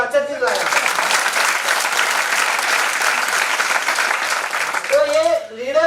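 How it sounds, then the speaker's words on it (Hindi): An audience at a talk on direct selling and leadership breaks into loud, sustained clapping lasting several seconds, bracketed by a speaking voice at the start and end. "बड़ा सोच समझ के मैनेजमेंट के लिए ताली बजाओ"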